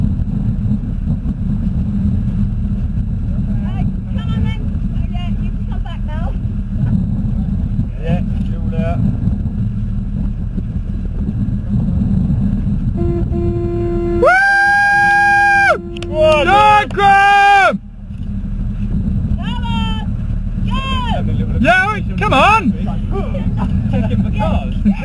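Motorboat engine running at speed, a loud continuous low roar with wind noise on the microphone, with a short whistle-like tone and people talking over it partway through.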